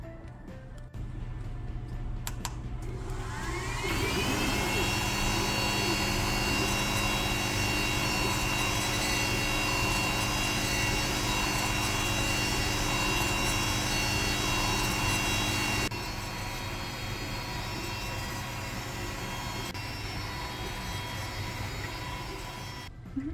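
An engraving machine works a full wrap onto a 40 oz tumbler, starting up after a few seconds into a steady, loud whirring hum with a high tonal whine that holds unbroken, with no talking.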